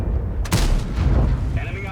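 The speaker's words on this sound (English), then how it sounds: "Gets a shot into the side of the E100." A heavy tier ten tank gun fires in a World of Tanks clan battle on the Ruinberg map, one loud booming shot followed by a rumbling tail and game effects, with a commentator talking over it.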